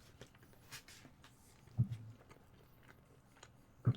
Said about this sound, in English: I was chewing.